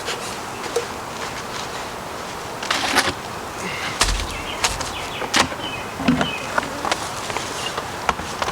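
Honeybees buzz around hive boxes being set up as a cell builder, a steady outdoor hum with occasional louder bees passing close and a few knocks and thuds.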